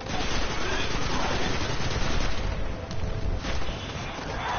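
Rapid gunfire from the Destiny: Rise of Iron video game, a dense, continuous barrage of shots and blasts that stays loud throughout, with no pauses.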